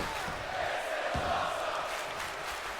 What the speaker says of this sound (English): And the disrespect in this crowd is letting Piper hear it.